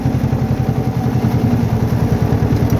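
A freshly overhauled Ursus C330 tractor engine running steadily on a slight uphill field pass while spreading fertilizer, a loud, close, rhythmic low diesel chug throughout.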